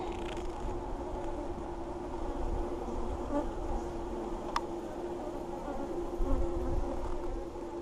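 Honey bees buzz in a continuous, steady drone during a hive inspection, close and even throughout, with one sharp click partway through.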